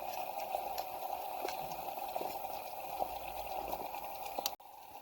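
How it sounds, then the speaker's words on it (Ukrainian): Steady bubbling and hissing of a pot boiling on a camp stove at a campsite, with faint clinks, continuous throughout and cut short near the end. "Відразу в нас тут все кипить і відразу помішуємо"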